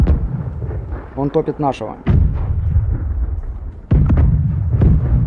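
Ship cannons fire in the Blackwake naval video game, with deep booming blasts near the start, middle and end, and someone speaking briefly between the shots.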